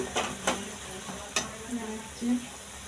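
Curry leaves and coriander leaves frying in green-tinged hot oil, a steady close sizzle broken by a few sharp stirring scrapes and spatters.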